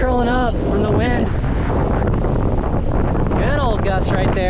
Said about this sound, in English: Oh yeah, we got a gust there.